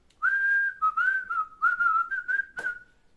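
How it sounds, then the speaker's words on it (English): A person whistles a short, wavering tune close by, several connected notes ending with a brief sharp sound. "they should whistle all along the way"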